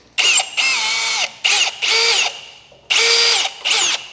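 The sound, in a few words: drilling out rivets with a power drill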